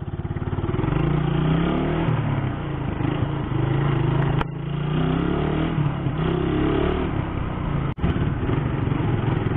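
A motorcycle engine drones loudly and steadily while riding to school, its pitch rising and falling with throttle, broken by two sharp clicks from gear changes between fourth and fifth.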